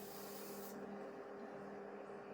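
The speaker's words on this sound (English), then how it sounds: "Give it a good spray so I know it doesn't go anywhere." Hairspray misted onto a finished hairstyle, a soft close hiss in a single short burst that cuts off partway through, leaving faint background noise.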